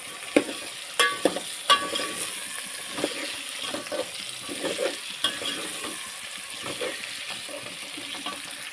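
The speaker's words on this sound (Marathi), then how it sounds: "तर इथे मी आता तेंडली टाकून घेते मस्त ते आणि पलटून घेते" Ivy gourd (tendli) frying in a pan with turmeric, with a soft sizzle under repeated clinks and scrapes of a spoon as the pieces are stirred and turned, fairly quiet and close, with no talk.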